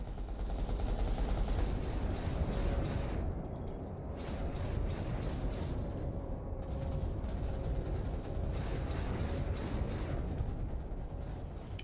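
Dense continuous gunfire in a large Planetside 2 battle, steady rattling automatic fire mixed with distant blasts and brief gaps, with no talk.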